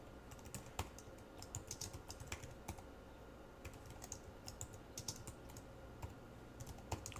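Someone types on a computer keyboard in quiet, uneven bursts of soft key clicks, close and fairly faint, with short pauses between strings of keystrokes and no talking.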